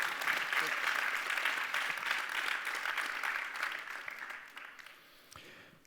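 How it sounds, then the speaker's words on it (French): Audience applause at a Run Innov 2019 award ceremony, steady dense clapping from a crowd that slowly fades toward the end. "On peut les applaudir."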